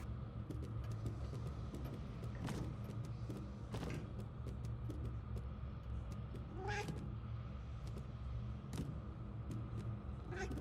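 A cat meowing in the video game Murdered: Soul Suspect, a few short faint meows over a steady low hum of game ambience.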